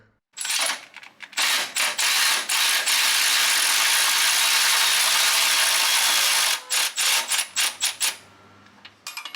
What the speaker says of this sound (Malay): Sekali lagi dengan menggunakan cordless ratchet, extension bersama dengan soket 14.